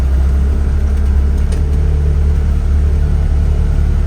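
A Wolf Mini 780H Chinese wheel loader carrying a load drives forward, its engine a loud, steady, close low rumble throughout.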